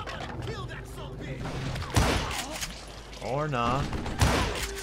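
Gunfire cracks in Call of Juarez Gunslinger as several sharp shots go off amid a busy game mix, with sudden loud reports about two seconds apart and a voice talking over them.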